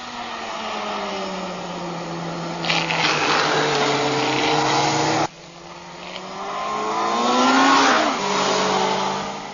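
Kawasaki ZX12 and Suzuki Hayabusa motorcycles accelerating flat-out out of corners, engines rising in pitch through the gears with a brief break between shifts, loud and close.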